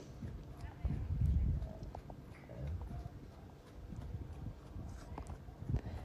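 A young, novice show horse trots in a riding arena during a ridden showing class, its hooves making soft, rhythmic clip-clops. A rider talks over the steady trot throughout.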